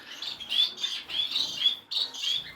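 Small breeding birds in an aviary bird room chirp in quick bursts of high, bright tweets, repeated several times close by with little else audible.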